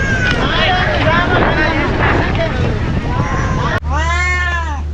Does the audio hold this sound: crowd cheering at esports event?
no